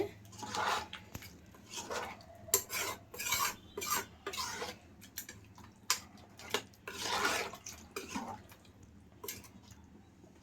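Chicken curry is stirred in a pressure cooker, giving soft, rhythmic scraping and rubbing strokes that come in irregular bursts, faint and close.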